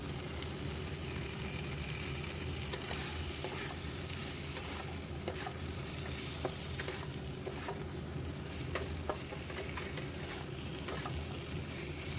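Potatoes and peas stirred in a pan for a vegetarian aloo dum: a steady, close sizzle runs throughout, with scattered scraping clicks from the spoon.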